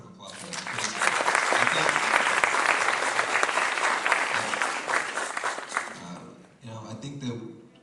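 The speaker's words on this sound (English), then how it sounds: "Give a round of applause for that." Sustained audience applause at a college event with Democratic presidential candidates, a dense wash of clapping that swells quickly, holds strong for several seconds, then fades as voices and a brief renewed patter follow.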